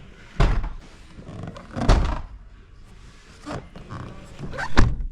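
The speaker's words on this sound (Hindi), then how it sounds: "तो जैसे हम दरवाजा खोलते हैं एकदम से," A Tata Tiago car door is swung open against a door edge guard, giving a few dull, close thunks spaced apart over quiet background.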